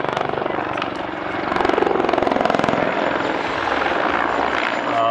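A helicopter flies and maneuvers at the Sliač airshow, its loud rotor chop pulsing steadily with a rising and falling engine roar.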